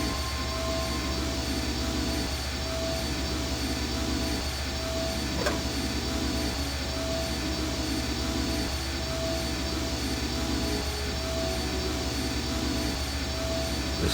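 Machine engines in the video game I Have No Mouth, and I Must Scream, driven by electricity from living brains, give a steady, dense mechanical drone with a faint rhythmic pulse, unbroken and alone throughout.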